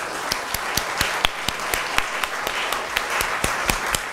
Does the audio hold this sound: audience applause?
yes